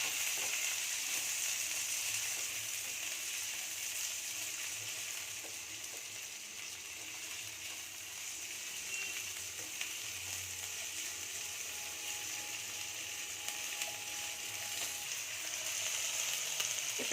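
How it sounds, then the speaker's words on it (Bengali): Chopped onions with a spoonful of salt fry in a pan at a quiet, continuous sizzle that holds steady, with faint occasional scrapes of stirring. "এটা আমি 1 চামচ, ছোটো চামচের 1 চামচ নুন দিয়ে আমি এটাকে ভাজছি।"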